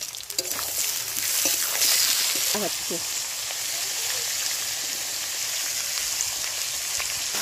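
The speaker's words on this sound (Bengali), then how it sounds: "এবারে আলু দিচ্ছি, পেঁয়াজগুলো লাল হয়ে গেছে, মধ্যে আলু দিচ্ছি।" Potatoes are added to browned onions in a hot pan and fry with a steady, loud sizzle, with a few brief stirring scrapes near the start, continuing evenly throughout.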